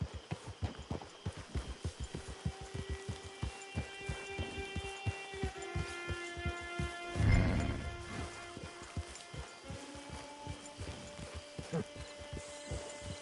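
Horse hooves clip-clop in a steady, fairly close rhythm through a video game scene on PS4, with a sustained musical drone above and a brief louder thump partway through.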